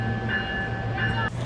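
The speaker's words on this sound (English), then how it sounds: "I got the train moving for like 5 seconds in this video" A train rolls along the tracks, a steady low rumble with a faint sustained ringing tone above it, nearby and continuous for the short stretch with no talk.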